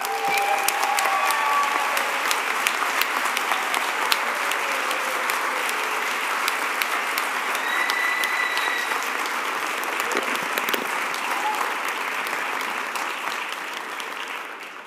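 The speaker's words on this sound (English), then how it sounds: "can we give a final round of applause for all of our 4 inspiring presenters here today, Bruce Blonigan, Carrie Hoyt-Peck, Jordan Pf" Sustained applause from a large audience at an executive MBA commencement ceremony, steady and loud throughout with no pauses, a few faint tones under the clapping.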